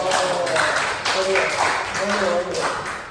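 A church group breaks into short, loud applause mixed with voices, clapping unevenly over a few seconds.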